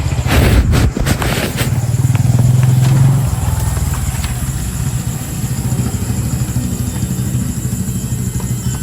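A motorcycle engine runs nearby, loud and rough at first with a brief rising whine, then settles into a steadier idle-like drone, with no talking.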